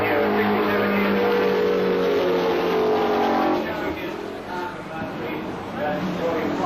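A Brabham racing car at the 1978 Australian Grand Prix historic event roars past the grandstand, its engine note sweeping loud and steady before easing slightly, with a voice talking over it throughout.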